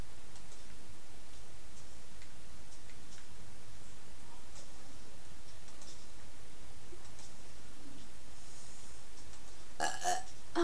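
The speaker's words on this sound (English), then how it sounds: "Sorry, I just burped." A person burps once near the end of a quiet stretch of a Minecraft play session, a short loud burst over a steady low hum and faint scattered clicks.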